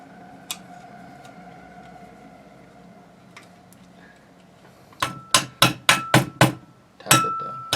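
A quad rail is tapped down onto a Type 81 rifle: after a quiet stretch come about seven sharp, close metallic taps in quick succession, loud against a low background with no talking.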